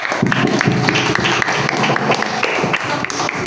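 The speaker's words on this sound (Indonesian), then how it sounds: "Ya, beri aplaus untuk kelompok 1." A classroom of students applauds for the first group after its presentation, a steady mass of clapping that runs for a few seconds.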